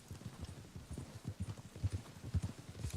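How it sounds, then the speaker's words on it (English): Hooves of a gold Palomino Morgan horse in Red Dead Redemption 2 clip-clop in a quick, steady galloping rhythm, fairly faint and close, with no talking. "this common horse, which is a gold Palomino Morgan, I believe, can run."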